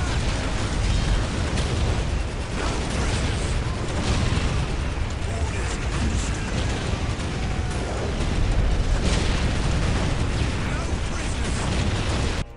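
Artillery explosions pound a Tyranid hive in the Dawn of War strategy game, with dense overlapping booms, bursts and mechanical battle clatter rumbling continuously at high volume.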